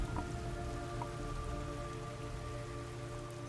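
Steady rain patters continuously over a low rumbling ambience in the video game Metal Gear Solid Delta: Snake Eater, with a few brief brighter tones and no voices.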